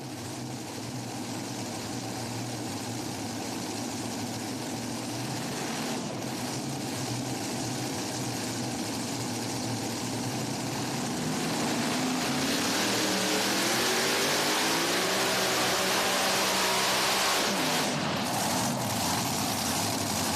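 Pulling truck called the War Wagon at an NTPA Super Nationals tractor pull in Tomah, Wisconsin, its engine a loud, steady roar that climbs in pitch and intensity partway through, then eases back, with no talk over it.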